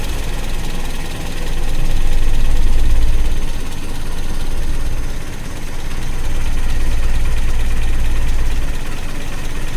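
A Toyota Kijang engine idles steadily with a low rumble that swells and eases as the RPM is turned down, no voices over the continuous drone.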